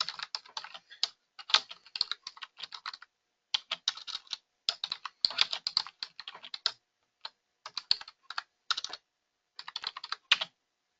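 Rapid bursts of computer keyboard typing, close and fairly loud, arriving in irregular clusters with brief pauses between runs of keystrokes, with no voices.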